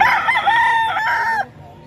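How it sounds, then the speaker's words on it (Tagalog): A single loud rooster crow close by, a long rising and falling call lasting over a second, then quiet. A Red Kelso gamecock. "Manok naman to ni Kuya Salim mga kaidol."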